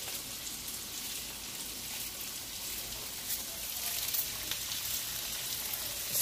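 Onions sautéing in a pan, seasoned with pepper, give a steady, even sizzle and crackle that carries on without a break and swells a little toward the end, with no talking over it.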